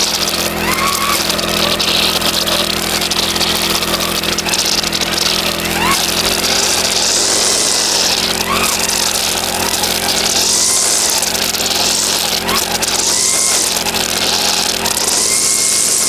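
Loud, continuous two-stroke engine whine of a brush cutter fitted with nylon line, revving as it cuts grass, with swishing bursts over the constant drone and someone talking now and then.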